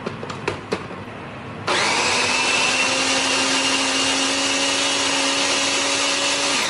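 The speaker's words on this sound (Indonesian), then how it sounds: "Nah, kalau untuk di sini Flavi kasih pakai chopper dari Revel." Revel electric food chopper grinding chilies and spices, a few clicks and taps, then the motor kicks in with a loud, steady whirring drone that runs without pause to the end.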